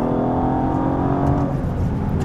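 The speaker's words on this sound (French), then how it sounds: "l'échappement a été revu, donc ça fait vraiment plus de bruit que la DB11" Aston Martin DBS Superleggera with a revised exhaust, in Sport Plus mode, accelerating hard: a loud, steady engine roar with a layered tone that holds for the whole stretch.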